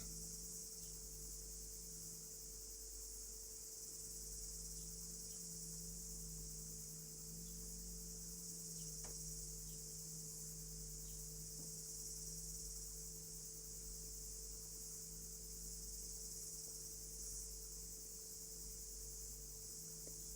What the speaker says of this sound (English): You hear the cicada singing?